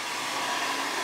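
A hair dryer blows hot air through hair during a silk press, a steady, loud, close whoosh that holds constant throughout.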